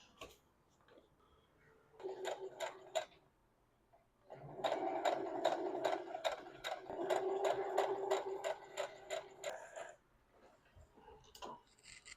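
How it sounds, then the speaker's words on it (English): A sewing machine top-stitches close to the edge of folded fabric on a baby's winter garment, running in two bursts of rapid, even stitching, a short run and then a longer steady one, with quiet pauses between. "I'm just going to top stitch the very close to the edge of where the folded fabric is all the way around"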